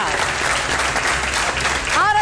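Applause from a crowd at a live event, a dense and steady burst of clapping that fills the whole moment, with a voice cutting in right at the end.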